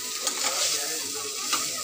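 Spiced masala frying in a pan while being stirred, a bright steady sizzle with a couple of sharper scraping stirs, close and loud, with no talking.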